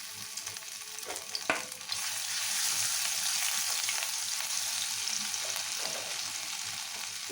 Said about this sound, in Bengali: চিকেন ভাজা তেলের মধ্যেই আমি আদা রসুন ঘষে রেখেছি দিয়ে দিলাম।